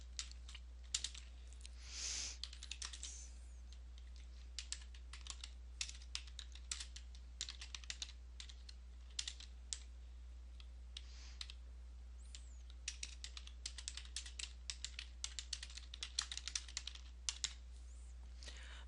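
Steady typing on a computer keyboard while finish concrete is entered as a service item, with irregular bursts of close key clicks across the whole stretch and quiet pauses between them, no voices.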